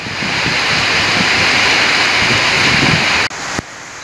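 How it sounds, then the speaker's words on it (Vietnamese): Steady rain pours down during an outdoor fishing trip in Ben Tre, Vietnam, with a loud, dense, continuous hiss close by that cuts off abruptly near the end. "trời mưa"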